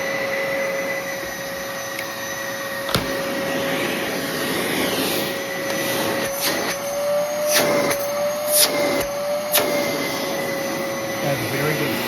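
A Bissell Heavy Duty 93Z6 bagless upright vacuum cleaner runs steadily with a loud, constant whine and whoosh, broken by a few short clicks and bumps, heard close and alone.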